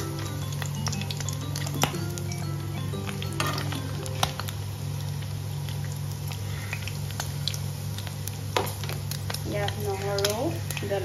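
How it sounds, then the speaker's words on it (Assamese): Pork sizzles and fries in its own rendered fat with no added oil, a steady close crackle broken by occasional taps and stirring, with a voice talking over it. "এতিয়া মাংসখিনি দি দিছোঁ তেল ওলোৱাকৈ ভাজিম"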